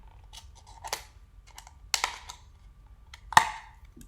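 Scissors snip through paper for an Earth Day shark craft, three or four crisp, separate cuts spaced out over a quiet background.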